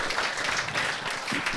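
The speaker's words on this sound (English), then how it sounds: "give that a round of applause, everybody" Applause from the audience at a live podcast recording in Brisbane, a steady wash of clapping from a crowd, fairly loud and uninterrupted.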